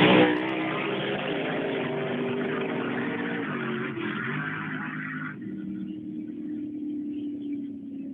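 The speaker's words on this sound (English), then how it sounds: "he concluded his message with a video from the race car track" A race car on a race track roars steadily at high engine speed for several seconds, then drops to a lower, quieter drone as it recedes; no one speaks.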